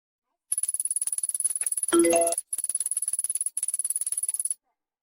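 A phone's rapid electronic message-notification chime repeats in quick bursts, broken by a brief louder jingle and two short pauses.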